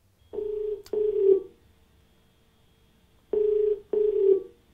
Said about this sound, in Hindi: आइए बात करते हैं अपने अगले कॉलर से राम आशीष जी से